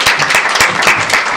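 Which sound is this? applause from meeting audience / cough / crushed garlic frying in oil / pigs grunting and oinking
applause from meeting audience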